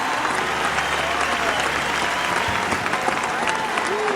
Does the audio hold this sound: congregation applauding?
yes